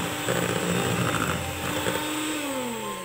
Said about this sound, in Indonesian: mixer kembali dengan kecepatan rendah